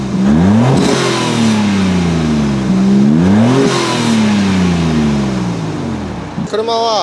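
A Nissan Skyline ER34 four-wheel-drive model at the Daikoku tuning meet in Japan revs hard twice up close, its engine note sweeping up and falling back each time, with a brief voice right at the end.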